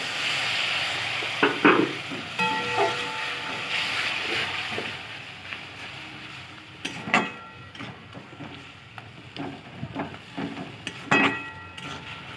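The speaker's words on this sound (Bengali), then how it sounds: "চিংড়ি মাছের মশলাটাই খুব ভালো লাগে বেশি তাই মশলাটাকে ভালো করে কষিয়ে নিচ্ছি" Shrimp curry spice paste, with tomato and coriander, being sautéed in a pan, giving a steady close sizzle broken by irregular scraping stirs and occasional clinks of the utensil against the pan.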